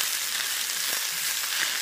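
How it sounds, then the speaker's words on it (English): Chicken pieces frying in a pan for a tagine, with a steady broadband sizzle that holds close and even throughout, plus faint scraping touches from the pan being stirred. "stir that up and let that fry up a little bit for about 2 minutes"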